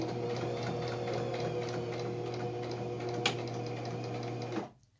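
A sewing machine runs a steady, close stitching hum through quilt fabric, making a back stitch for a cathedral quilt, then stops abruptly near the end.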